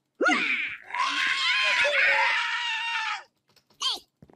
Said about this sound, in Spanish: hasta la vaca gritó